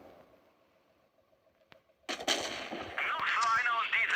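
A tank's main cannon fires in a tank video game, one sudden loud blast that gives way to a long, rumbling roar with crackling debris. Quiet game ambience and a faint tick come before it.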